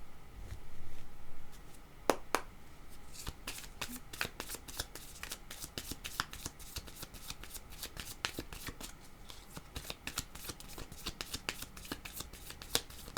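Tarot cards are shuffled by hand in a long run of crisp, rapid riffles and flicks, close and fairly quiet, with no talking.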